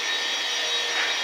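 A wireless vacuum cleaner runs during household cleaning in a Hong Kong home, a steady, close, airy whine that holds without breaks.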